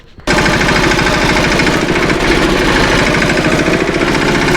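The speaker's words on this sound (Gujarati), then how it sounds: "તો તમે ટ્રેક્ટરનો અવાજ સાંભળો મિત્રો" A farm tractor engine starts abruptly and runs loud and close, a steady rapid knocking diesel chug that continues unbroken.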